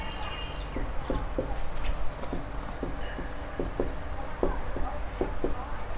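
Chalk writing a definition on a classroom board, a series of short tapping and scratching strokes in irregular rhythm, close and moderately clear over a steady low background hum.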